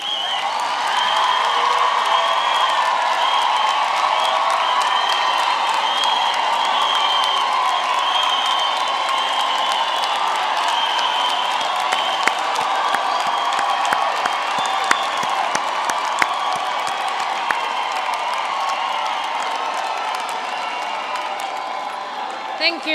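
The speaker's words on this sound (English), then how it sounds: "Let's give them a hand of applause." A large graduation ceremony crowd applauds the standing graduates, with dense, sustained clapping that holds steady and close for over twenty seconds, scattered sharper claps standing out toward the end.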